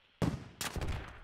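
Gunshots in the military shooter Squad, starting suddenly after a brief quiet and then coming as a dense burst of shots at mid distance, with a sharp crack near the end.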